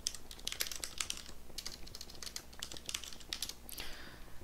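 Quiet computer keyboard typing, a sensitive-keyed board clattering in irregular bursts of light clicks, close to the microphone with no talk.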